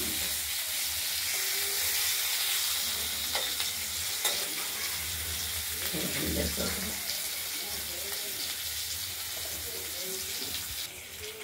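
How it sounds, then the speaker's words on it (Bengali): Potatoes fry in a pan with a continuous loud sizzle, punctuated by scraping stirs, and a voice murmurs faintly in the background. "আলুগুলো ভাজা হয়ে গেছে।"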